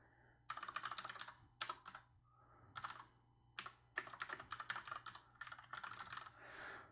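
Computer keyboard typed on for a search query, bursts of rapid key clicks separated by short pauses, quiet and close with no talking.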